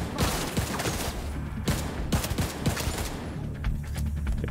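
An automated turret firing in the video game The Division 2, a steady, rapid stream of loud shots with a regular cadence and occasional sharper impacts, continuing throughout.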